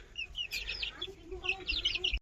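Young European Brahma chickens cluck and chirp close by in short, quiet bursts.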